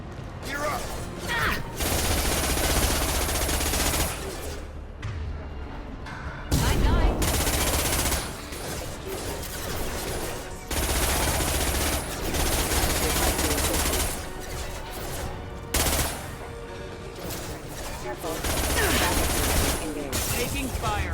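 Sustained gunfire rattles through a Mass Effect 2 firefight, long loud automatic bursts with short pauses between them, with voices speaking over the shooting.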